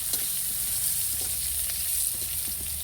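Whole and halved pointed gourds fry in hot oil with a loud, constant close-up sizzle, and faint crackles and pops run beneath the hiss throughout.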